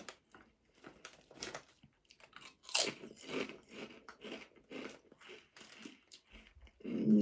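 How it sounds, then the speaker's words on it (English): Barbecue-flavoured Crunch Chips from a German snack box are eaten close to the mic, with repeated loud crisp bites followed by steady crunchy chewing that carries on for several seconds, with no talking over it. "It definitely does spell barbecue flavored chips"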